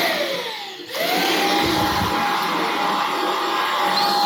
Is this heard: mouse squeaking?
no